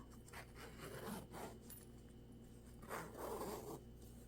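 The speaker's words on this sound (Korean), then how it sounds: "지퍼 부분을 열어서" A zipper on a crocheted leaf-motif cushion is opened in two short rasping pulls, close and fairly quiet, with a soft fabric rub between them and no voices.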